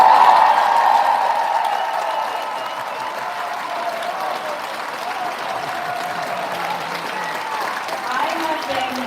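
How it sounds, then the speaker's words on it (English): Applause from the audience at a congressman's town hall event fills the room, loudest at the start and then holding as steady crowd clapping throughout. "At the risk of getting big applause here,"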